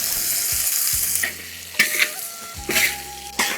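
Tomatoes are stir-fried with ginger, garlic and chili in a hot pan, giving a loud continuous sizzle broken by a few sharp scrapes and clatters of the spatula against the wok, with no talking.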